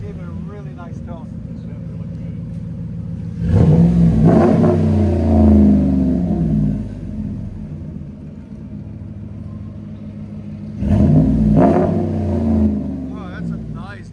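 A 2016 RAM 1500 pickup's 5.7L HEMI V8 revs through a Flowmaster Super 44 exhaust, two deep loud rumbling bursts rising and falling over a steady idle, with talk nearby.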